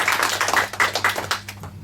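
On a children's quiz show, audience applause comes as a short burst of brisk, fairly close hand claps that fade out within two seconds.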